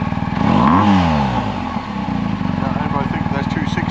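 A BMW R1250GS motorcycle fitted with a Jekyll and Hyde exhaust revs up, its engine pitch sweeping upward before settling into a steady, throbbing idle, close by with voices talking nearby.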